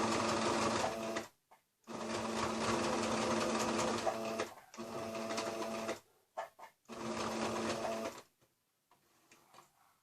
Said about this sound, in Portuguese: Vou costurar deste lado aqui. Em cima da linha que vocês fizeram.